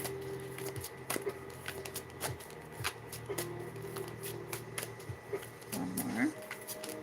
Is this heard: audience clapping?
no